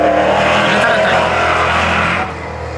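A race car roars past loudly on a speedway's banked turn during a qualifying session at Tours Speedway, a steady, close engine drone that drops off slightly as it moves away.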